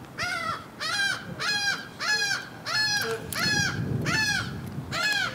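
Several crows caw in a steady series of harsh, repeated calls, loud and close, with a low rumble of background noise underneath.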